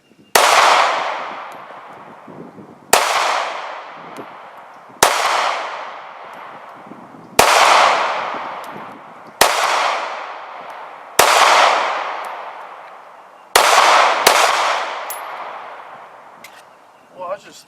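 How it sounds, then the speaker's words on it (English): Glock 43X pistol shots, about eight loud, close reports spaced a couple of seconds apart, each a sharp crack followed by a long ringing decay, with two fired in quick succession near the end. "I'm going to go in and put some rounds through it."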